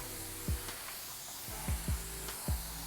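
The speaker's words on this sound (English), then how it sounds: "with every pass of the spray gun" Short bursts of spray hiss, four quick passes spaced irregularly, close and fairly quiet over a low steady background hum.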